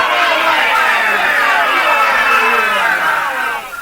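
A studio crowd cheers and roars loudly for a few seconds, a dense wash of voices that fades slightly at the end, with no clear single speaker.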